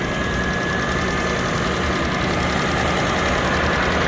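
A 1997 Lexus ES300 six-cylinder engine idles up close, a steady, loud mechanical hum with a fine rhythmic ticking and faint whine, no talking.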